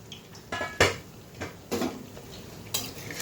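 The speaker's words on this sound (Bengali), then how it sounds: "ঢাকনাটা উঠিয়ে দিই।" A metal lid lifted off a cooking pot of stuffed vegetarian kakrol (spiny gourd), with several sharp clanks and scrapes of metal on metal spaced across a few seconds, close and moderately loud with no talk.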